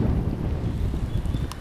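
Steady head-on wind buffeting a microphone while cycling on Awaji Island, a continuous low roar and rumble throughout with no talk.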